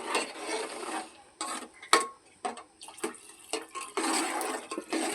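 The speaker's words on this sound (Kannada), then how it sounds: "ನೀರು ಆ್ಯಡ್ ಮಾಡ್ತಿದ್ದಾಳೆ." Water poured into roasted semolina in a hot pan gives bursts of hissing, sizzling splash that rise and fall unevenly, loud and close, with scraping clatter between pours.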